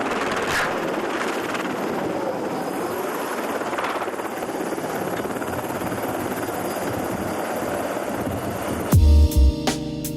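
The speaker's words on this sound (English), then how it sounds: "This helicopter tried to take off but failed." A helicopter struggles to lift off, its rotor chopping and engine whining steadily for several seconds before an abrupt burst of loud low thuds near the end.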